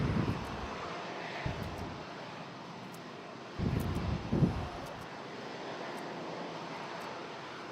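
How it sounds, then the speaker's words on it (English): Boeing 737 MAX 8 arriving from Kingston at Toronto Pearson, a faint distant jet engine rumble under gusty wind noise, with a few brief swells. "there's a 737 MAX 8 coming in for an arrival"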